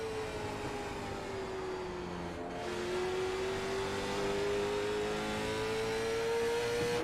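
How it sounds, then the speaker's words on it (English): A race car circles Southern National Motorsports Park during a Monday night series, its engine holding a sustained roar whose pitch rises and dips with the throttle through the corners, heard at a distance and alone. "Listen to the throttle rhythm and listen how he controls it through the corners"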